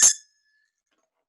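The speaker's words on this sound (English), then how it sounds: "I've got a bell," A single bright ding from a small bell, struck once from a sound effects tray, ringing clearly close up and then fading out within a quarter second into silence.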